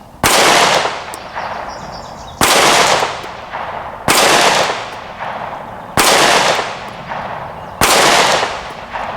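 Five sharp, loud shots from a Smith and Wesson SD9 2.0 pistol, evenly spaced about two seconds apart, each with a brief echoing decay.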